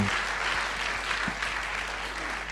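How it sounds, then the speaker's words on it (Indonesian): Steady applause from a seminar audience at an investment Q&A session, a dense even wash of many hands clapping at moderate level throughout, with no voices over it. "Wow, tepuk tangan dong."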